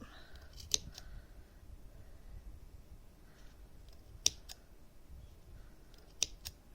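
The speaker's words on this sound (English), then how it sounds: "So you can cut a few at a time, and they will start to pop out to make the pom-pom" Scissors snipping through yarn loops to make a pom-pom, three separate sharp close cuts spaced a few seconds apart, each a quick crisp double click, over quiet room background with no talk.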